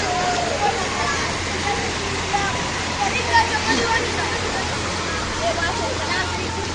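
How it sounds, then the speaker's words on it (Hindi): Rainwater mixed with overflowing sewer water runs through flooded city streets after heavy rain, a steady broad rushing wash of flowing water with faint distant voices and city noise beneath. "सारा गटर का पानी गलियों में जा रहा है।"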